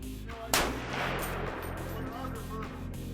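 A rifle fires a single sharp, loud shot of Hornady Critical Defense 155 grain FTX ammunition at a range, the blast decaying into a long rumbling echo.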